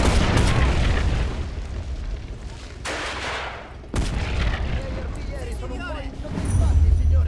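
A Fiat tank firing in a 1935 Italian invasion of Ethiopia battle within a strategy video game, deep booms and rolling gunfire beneath someone talking over it.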